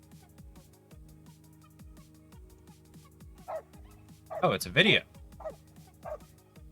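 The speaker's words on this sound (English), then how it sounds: "Stupid dog barking at the horses" A dog barks repeatedly at horses and donkeys, heard through a phone video playback: a run of sharp, thin barks and yips on a regular rhythm, while someone talks over it.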